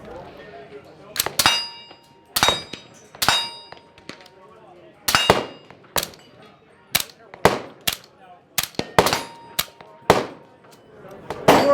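SIG Sauer MCX short-barreled piston rifle fired outdoors at a range, a series of sharp, loud single shots and quick doubles spaced irregularly, each with a ringing metallic clang from steel targets.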